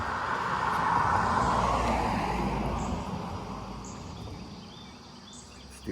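A single car passes on a town street in Harpers Ferry with a broad swelling whoosh that peaks early and fades away, with faint insects and birds in the background.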